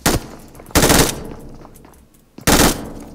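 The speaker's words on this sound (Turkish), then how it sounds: "kutuya kadar her şeye sıkıyorum" Gunfire in PUBG Mobile, three loud close bursts of shots separated by short gaps, with echoing decay trailing after each burst.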